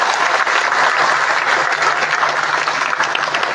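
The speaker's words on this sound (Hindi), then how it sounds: "जोरदार तालियों के साथ स्वागत करें," An audience at a political gathering in India applauds, a steady, dense wash of clapping from a sizable crowd that holds loud and even for several seconds without a break.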